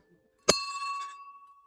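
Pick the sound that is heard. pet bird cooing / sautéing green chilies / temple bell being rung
temple bell being rung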